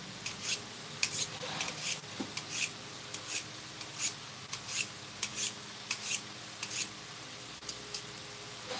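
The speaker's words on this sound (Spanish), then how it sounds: "A las tijeras yo le saco filo con este lijador. Este es un lijador de cuchillos." A pair of scissors is drawn repeatedly across a knife sharpener, making a string of short, quiet scraping rasps in an uneven rhythm, up close with no voices.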